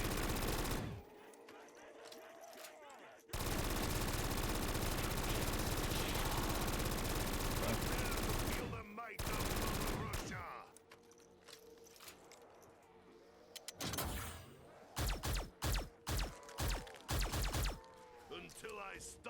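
A point gun in a tower defense game fires in long continuous bursts and then in rapid separate volleys, loud and close, with a person talking in between.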